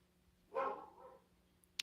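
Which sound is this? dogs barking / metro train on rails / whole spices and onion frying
dogs barking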